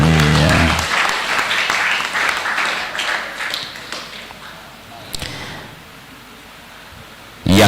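Audience applause at a Scout Day (Hari Pramuka) thanksgiving ceremony in Tegal, a dense burst of clapping that starts loud and gradually thins and fades over several seconds, with a few scattered claps near the end.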